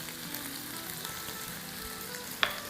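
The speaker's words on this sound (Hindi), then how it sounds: "इसको थोड़ा सौटे होने देते हैं" An onion mixture sautés in a pan with a steady, soft sizzle, a single sharp clink from the pan rising near the end.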